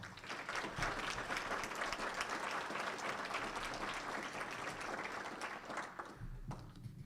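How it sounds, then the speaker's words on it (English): A room full of people at a luncheon clapping steadily for several seconds for officials, dense and even, tapering off near the end. "thank our officials again with a nice round of applause"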